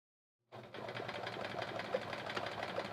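A sewing machine runs steadily through free motion quilting on quilt blocks, starting abruptly after a moment of silence and then keeping up a close, continuous whirring hum.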